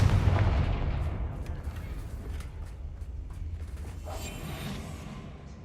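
A Confringo blasting spell goes off in Hogwarts Legacy, a single heavy explosive boom at the start that decays into a long rumbling tail with crackling debris.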